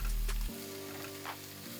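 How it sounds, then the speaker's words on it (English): Potatoes frying in three tablespoons of oil in a skillet, seasoned with paprika, seasoned salt, garlic and black pepper: a close, steady sizzle with a brief low hum at the start and no talking. "the potatoes in a skillet. Add 3 tablespoons of oil."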